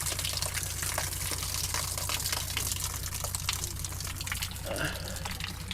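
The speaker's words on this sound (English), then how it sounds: "The rough shower." Water runs steadily from a rough outdoor shower with an old Coke can as its rose at a caravan stop on the Western Australia coast, a continuous close gushing spray with faint voices underneath.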